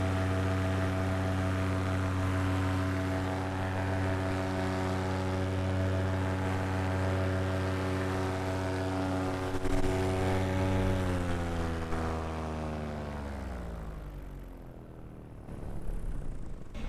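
Paramotor engine in flight on a cold, bumpy day near an airport, a steady loud propeller drone that holds for several seconds then drops in pitch as the throttle is pulled back.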